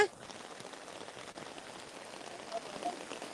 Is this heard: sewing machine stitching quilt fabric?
no